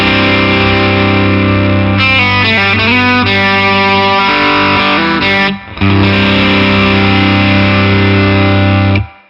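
Overdriven electric guitar through a Mesa Boogie California Tweed amp with the bass and mids turned all the way up, heard as loud, thick, distorted chords and riffing that ring on, with one brief gap before a final sustained chord.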